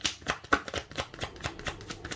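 Tarot cards being shuffled, a quick run of papery riffles and flicks in an uneven rhythm, close and fairly soft, with no voices.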